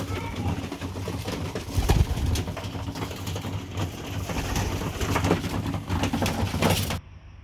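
Young racing pigeons push through a sputnik trap, with a steady run of wing flaps, scuffles and rattling of the trap bars, plus soft cooing. The noise stays fairly close, busy and continuous for about seven seconds before cutting off.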